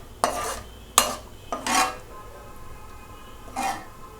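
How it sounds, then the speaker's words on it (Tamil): A utensil scrapes and stirs fried chicken pieces into a thickening orange sauce in a pan for Panda Express-style orange chicken, with four distinct clattering strokes spaced apart, close and fairly loud, and no talking. "நம்ம பொரிச்சு வச்சுருக்க சிக்கன் துண்டுகளெல்லாம் வந்து இதில் போட்டு மிக்ஸ் பண்ணிடலாம்"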